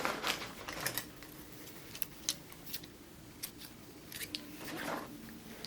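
Scissors cut through crochet yarn to fasten off a tail, a few quick, sharp snips close by in an otherwise quiet setting with no talking.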